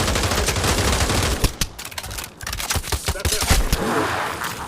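A dart gun firing in the Pavlov video game, with rapid bursts of sharp cracking shots over noisy game background, loud and close.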